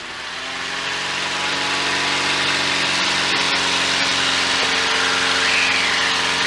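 A Velocity SUV aircraft's engine swells from a lower drone into a loud, steady roar as power builds, heard up close with a buzzing tonal hum.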